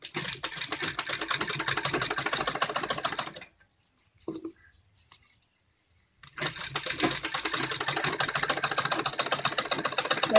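A sewing machine stitches a kurti in fast, even rapid-fire runs, stopping for a few seconds with a faint handling click, then resuming the same steady stitching, close and alone.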